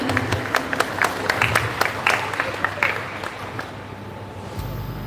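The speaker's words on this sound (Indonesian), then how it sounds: "Boleh sekali lagi tepuk tangannya." Audience applause at the opening ceremony of a high-voltage factory facility, a steady crowd of clapping hands with sharp individual claps, filling the room for several seconds before cutting off abruptly into a low hum.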